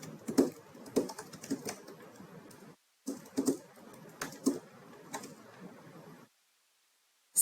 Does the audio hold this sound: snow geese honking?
no